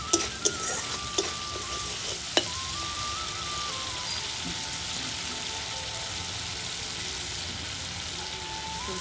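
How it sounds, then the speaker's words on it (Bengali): Spices with chili powder and salt frying and being stirred in oil in a pan while cooking koi fish: continuous close sizzling, a few sharp clinks of the spatula early on, then a steady hiss. "আবার একটু কষানো, তারপরে আর একটু লঙ্কা গুঁড়ো, নুন দিয়ে একটু কষানো"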